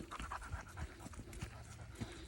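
A Boxer puppy pants steadily while walking a nature preserve trail, a close rhythmic huffing with footsteps and faint outdoor ambience around it.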